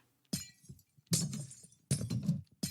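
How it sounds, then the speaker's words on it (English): Glass blocks breaking in a Minecraft-style video game: three separate shattering crashes with clinking debris, each bright and close, spaced about a second apart with short quiet gaps between. "Glass that doesn't disappear when you break it?"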